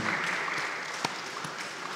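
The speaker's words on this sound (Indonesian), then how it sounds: "Sekali lagi tepuk tangan untuk Pak Dewa dan tim." Applause at the opening of a green tourism seminar and entrepreneurship expo, a steady wash of crowd clapping with a few sharper individual claps standing out.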